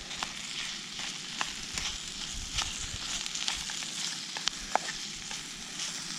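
A Coleman Peak One Cobra camping stove roars steadily outdoors with wind, a continuous hissing rush broken by occasional soft clicks and pops.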